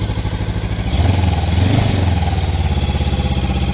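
A new Honda NX 500 motorcycle engine runs close by with a deep, bassy exhaust note, idling steadily before a brief throttle blip swells the rumble, then settling back into an even throb.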